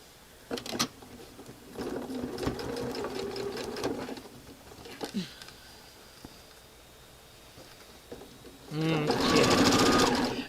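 A sewing machine stitches quilt pieces in several quick bursts of rapid, even needle clatter, with pauses between them and a longer, louder run at the end.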